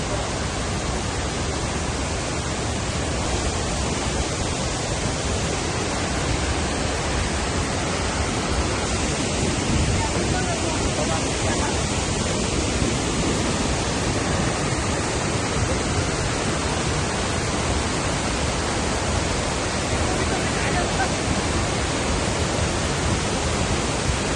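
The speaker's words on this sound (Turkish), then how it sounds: "Böyle devasa büyüklükte bir şelale akıntısı var." Kuang Si waterfall in Laos rushing at full force, a dense, constant roar of crashing water filling the scene evenly from start to finish, close and loud with no speech.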